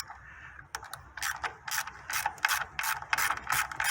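A ratchet clicks in quick, close bursts while loosening the 10mm hex valve cover bolts on a Toyota 2.4-liter 2AZ-FE engine, several short runs of rapid pawl ticks with brief pauses between.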